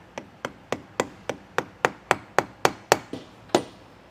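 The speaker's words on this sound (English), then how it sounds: "I like to just get one edge started and then tap on that other side." A bearing cap is tapped onto a trailer disc brake hub with a hammer, a dozen sharp, evenly spaced knocks, close and alone with no talking.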